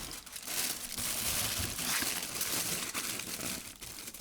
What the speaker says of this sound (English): they can't hear when I'm talking when I'm crumpling.